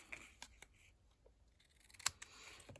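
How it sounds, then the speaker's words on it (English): Scissors snip through a small scrap of folded cardstock during a paper craft project, giving a few quiet, separate sharp cuts with a crisper snip near the end, alone without talk. "snip it off."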